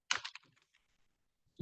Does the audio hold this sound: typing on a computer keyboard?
yes